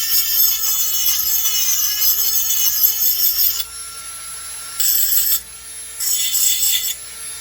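Grinder working burrs off the muffler of a Stihl MS 462 chainsaw, a steady high abrasive whine with gritty rasping that drops quieter twice then resumes, close and alone without talk.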